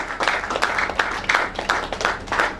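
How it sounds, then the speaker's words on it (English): A church congregation claps in unison during a celebration of their pastor, a steady rhythmic beat of many hands repeating roughly three times a second over a dense, roomy wash of crowd noise. "Keep clapping, keep clapping."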